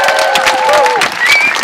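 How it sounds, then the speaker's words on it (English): Crowd noise at an outdoor March Against Monsanto rally in Edinburgh, a continuous mix of applause and scattered cheers with some voices, steady and moderately loud throughout. "One more round of applause for Pete."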